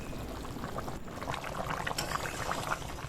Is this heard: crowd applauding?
no